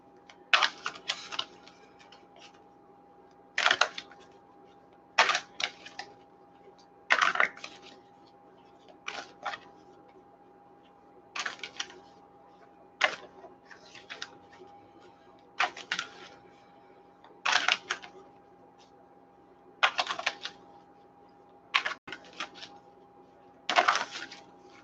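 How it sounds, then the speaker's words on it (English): Sacred Rebels oracle card deck being shuffled indoors, with about a dozen short, crisp papery riffling bursts at irregular intervals over a steady low hum, fairly close and moderately quiet. "as I'm shuffling the cards"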